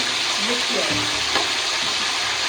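Food fries loudly in a hot pan just after gram flour goes in, a dense, constant sizzle close by with a faint voice murmuring underneath.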